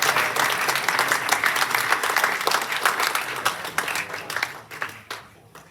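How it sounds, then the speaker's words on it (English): Sustained round of applause from a meeting audience honouring award winners at an annual general meeting, dense steady clapping throughout that thins and fades toward the end. "If I could please have a round of applause for all the winners"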